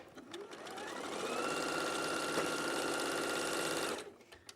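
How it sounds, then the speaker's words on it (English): A sewing machine stitches fabric pieces together in one continuous run of about four seconds, with a fast, even whirring rhythm that spins up at the start and stops abruptly near the end. "So I'll just sew these onto the sides."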